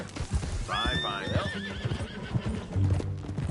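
A horse in Red Dead Redemption 2 gives a loud, wavering neigh in the first half, with hoof clip-clop and game ambience continuing throughout.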